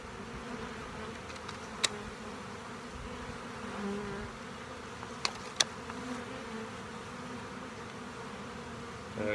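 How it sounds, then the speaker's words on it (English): Honey bees hum steadily around an open hive during an inspection, a continuous moderate drone with a few faint clicks and knocks. "These bees are so calm."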